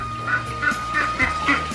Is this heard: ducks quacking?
yes